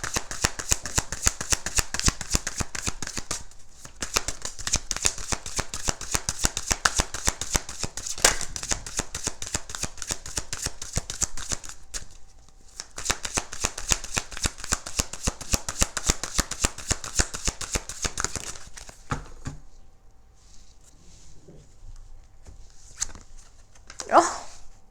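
Tarot deck being shuffled by hand, a fast dense riffle of card flicks repeated in long runs with brief pauses, close and fairly loud, ending in quieter handling.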